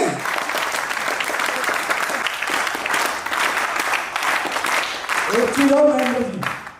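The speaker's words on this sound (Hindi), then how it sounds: "इतनी तालियां रुकनी नहीं चाहिए" Dense audience applause fills a seminar hall in Lucknow, steady and close for several seconds, with a voice starting to speak over the final moments as the clapping fades.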